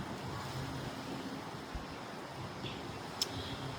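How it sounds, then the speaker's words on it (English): Strong wind roars across a beach apartment balcony on the Gulf at Navarre Beach, Florida, a steady broadband rush of gusts and microphone buffeting with surf blended in and no speech. "This is a terrific wind tunnel right now."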